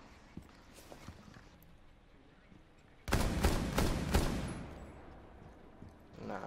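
Gunfire bursts out in a Rainbow Six Siege match: a loud, close cluster of rapid shots lasts about a second and a half, set against a quieter stretch of game ambience before and after.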